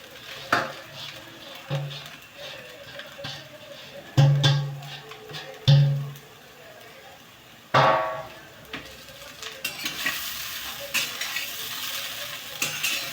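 A spoon stirs poha (flattened rice) in a pan during kande pohe cooking, with a soft scraping and a steady low sizzle broken by a few sharp metal clinks against the pan.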